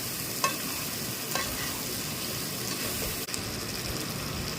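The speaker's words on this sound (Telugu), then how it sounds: "అల్లం చిన్నపాయ పేస్ట్ కాస్త పచ్చి వాసన పోయేంతవరకు వేగబెట్టాం" Ginger and shallot paste fries in a pan with curry leaves, making a steady close sizzle with a few sharp stirring knocks.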